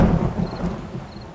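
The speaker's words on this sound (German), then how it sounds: "Regnet ja immer noch voll dolle." Heavy rain and a low thunder rumble from the video game 7 Days to Die form a brief, steady stormy wash with no voices.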